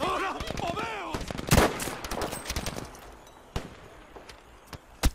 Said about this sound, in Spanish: Hay un güey disparando de acá